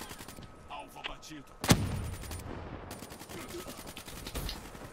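Gunfire in Call of Duty Black Ops 3: a sharp, loud shot cracks out near the middle, with quicker bursts of shots before and after it, heavy and close.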